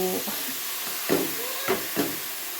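Carrot halwa with jaggery frying in a pan gives a steady close sizzle and hiss, with three soft stirring scrapes standing out near the end.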